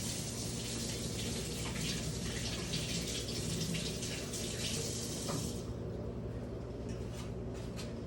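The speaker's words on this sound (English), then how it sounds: "always wash your hands." A kitchen tap runs steadily for handwashing after handling raw eggs, a loud close continuous gush that thins partway through as the flow changes, with no talking.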